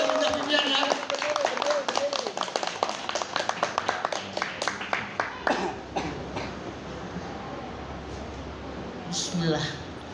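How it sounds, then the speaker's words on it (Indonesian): Scattered audience clapping at an Indonesian management gathering, rising into a burst of fairly close claps that thin out and fade, with voices talking over and after it. "Ayo tepuk tangan dong."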